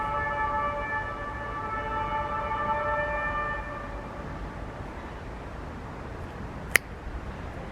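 A siren on a passing vehicle outdoors wails in steady tones, loud at first and then fading as it moves off, ending with a brief sharp click.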